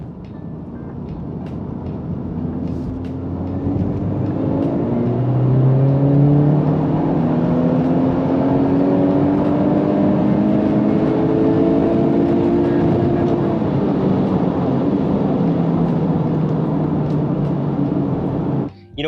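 A Honda Civic Type R with its stock intake runs and revs, the engine note climbing and sweeping through rising and falling whining tones, loud and continuous, then cutting off abruptly at the end.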